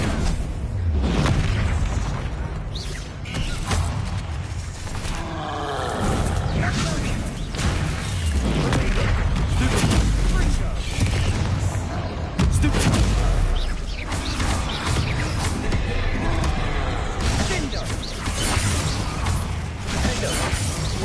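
Blasting spell explosions in Hogwarts Legacy, repeated loud booms and crackling impacts layered over a dense, continuous game soundscape with a voice speaking throughout.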